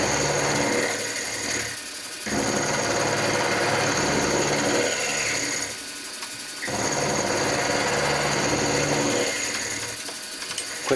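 A Warco WM 180 metal lathe runs and cuts in three long passes, a steady close mechanical whir with gear chatter that drops away briefly between runs, no voices over it.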